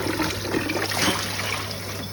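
Water runs steadily into a pot in a sink as starch is rinsed out, a close continuous splashing rush with no voices.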